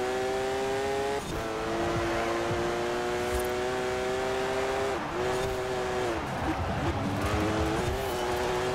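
Porsche race car in Forza Horizon 4, its engine a sustained, close, buzzing drone that climbs through the revs, dips where it shifts gears or brakes, then pulls up again.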